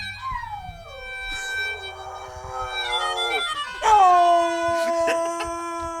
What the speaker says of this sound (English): The dog. Watch this. Will wake up from his sleep to sing.